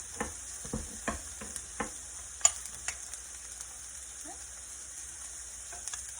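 Minced garlic and onion frying in a pan for cottage pie, a steady soft sizzle broken by scattered clicks and scrapes of stirring, quiet and close.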